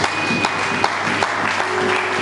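A church congregation applauds in a continuous, dense wash of clapping, fairly loud and close throughout the short stretch.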